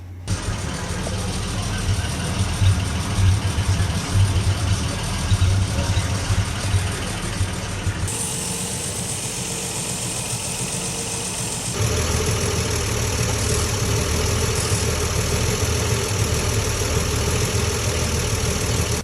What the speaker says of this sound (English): finally the engine's running well.